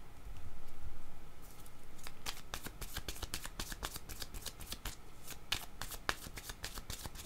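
Tarot cards being shuffled by hand, a steady run of crisp riffling clicks and snaps that grows denser after the first couple of seconds, fairly close and with no talk over it.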